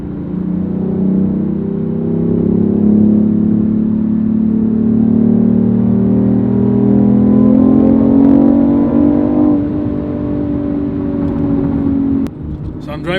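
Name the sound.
BMW i8 hybrid engine in sport mode, heard from inside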